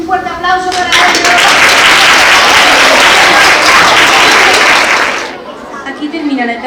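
Loud, dense audience applause at a school talent show for first-grade primary pupils swells and holds for several seconds, then breaks off, with voices talking before and after.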